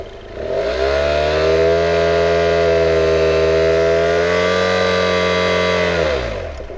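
A motorcycle engine held at a steady 5,000 rpm during an exhaust noise test, a loud sustained drone with a strong harmonic whine that rises in, holds evenly for about five seconds, then falls away.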